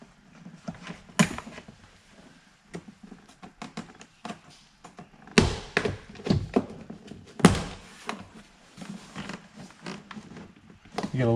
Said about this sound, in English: Release all the push pins.